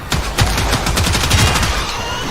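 Rapid automatic fire from the Gorgon machine gun in the video game Warframe, a dense, continuous rattle of shots sustained loud throughout with no talking.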